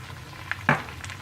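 Chicken frying in a pan as garlic goes in, a soft steady sizzle with a couple of brief louder spatters and scrapes, close and fairly quiet, no voices.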